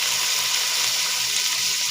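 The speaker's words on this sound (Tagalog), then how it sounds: "Ihulog na natin itong ating kamatis at sili." Tomatoes and chili dropped into a hot pan for a fish-head curry give a steady, dense sizzle that carries evenly through the whole short stretch, close and fairly loud, with no voices.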